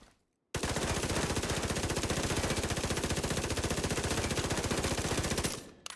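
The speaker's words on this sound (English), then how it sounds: "you'll find a lot of people in Dark Zone with submachine guns. Fast firing submachine guns." Rapid, steady automatic submachine gun fire in The Division 2's Dark Zone, a loud continuous burst of densely spaced shots lasting about five seconds after a brief pause, then cutting off.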